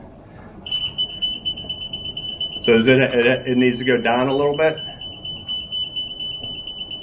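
A steady electronic beep tone from a laser level on a concrete job site runs throughout, briefly broken by a voice speaking over it before the continuous beeping carries on.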